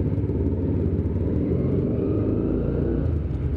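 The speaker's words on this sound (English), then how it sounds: "That's just a beautiful sound that this bike makes" A Yamaha R15 sport motorcycle engine runs steadily at idle with a low, continuous rumble. It sounds close and fairly loud and is heard alone, with no talk over it.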